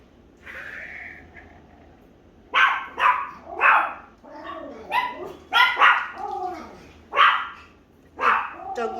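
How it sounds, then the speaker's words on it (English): Several dogs bark in short, loud bursts at close range, in an uneven run of about eight barks, some high-pitched, with a soft whimper near the start. "Nobody wants to hear you barking"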